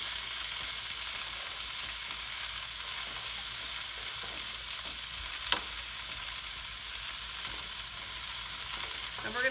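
Vegetables with ginger and grated garlic, destined for a salmon, bok choy and shiitake dish, sauté in a pan with a soft, constant sizzle. One faint scrape of stirring cuts through, and no one speaks.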